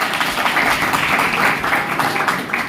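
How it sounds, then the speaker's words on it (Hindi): Audience applause at a religious discourse session in Nagpur: a steady, dense wash of many hands clapping at moderate loudness, continuing without a break. "जोरदार ताली बजा के स्वागत कीजिए।"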